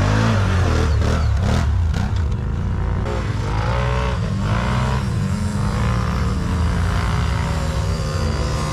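A car engine revving hard as it accelerates, loud and close, with repeated rising surges in pitch over a rough, continuous roar.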